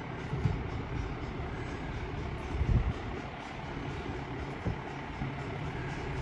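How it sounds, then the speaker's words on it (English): Heavy trucks rumble past along a city street in Regina, a continuous low traffic roar with a couple of louder swells as vehicles go by, no talking. "More big noisy trucks."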